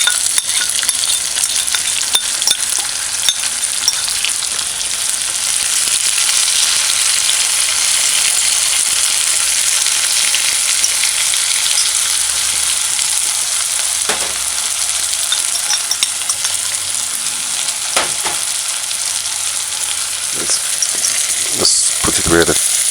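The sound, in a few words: onions and scallion frying in a pan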